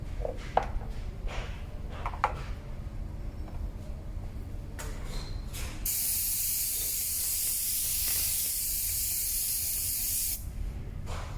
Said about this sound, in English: And you basically airbrush.